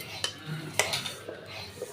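Vermicelli frying in soybean oil and being stirred in a pan, with close metallic scrapes and clinks of the utensil over a soft steady sizzle, short and busy, no talking.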